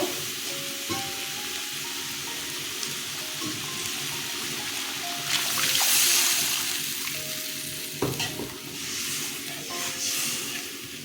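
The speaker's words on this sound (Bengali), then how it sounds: "মশলাটা কষানো হয়ে গেছে জল দিয়ে দিচ্ছি আর একটু জল দেবো" Water poured into a pan of frying spice masala for a Bengali sarpunti fish curry with coriander, giving a steady broadband sizzle and bubbling with a hissing surge around the middle and occasional clinks of a utensil.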